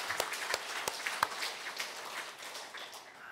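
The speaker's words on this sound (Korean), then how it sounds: "박수 한번 해주시기 바랍니다" A church congregation at a Sunday worship service claps together, a moderately loud patter of many hands with a few sharper individual claps standing out early, then gradually thinning out.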